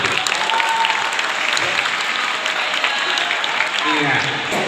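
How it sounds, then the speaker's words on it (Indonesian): Students at a vocational high school event in Makassar burst into loud, close, sustained applause in a large hall, dense clapping filling the room continuously, with crowd murmur and faint voices mixed underneath. "Tepuk tangan dulu."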